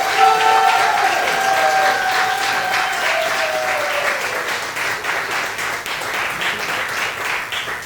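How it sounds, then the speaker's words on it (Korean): A church congregation applauds to welcome a pastor, with loud sustained clapping that fades slowly over several seconds. A few whistles or cheers rise briefly at the start, and no speech is heard. "뜨거운 함성과 박수로 환영해 주시기 바랍니다"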